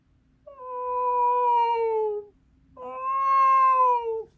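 A human voice imitates a hungry, complaining cat: two long, drawn-out meows with a short gap between them, loud and close with nothing else around them.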